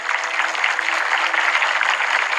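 Crowd applause after a drone light show at a televised Survivor 2020 finale, a continuous, fairly loud wash of clapping with no speech.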